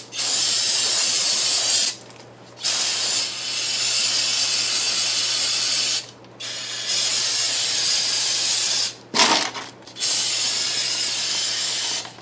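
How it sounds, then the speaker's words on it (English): Brake cleaner sprayed on Ford Mustang front brake brackets and caliper: several long, loud hissing aerosol bursts, each lasting a couple of seconds, separated by short pauses, close to the microphone with no talking. "going to hit it with some brake clean."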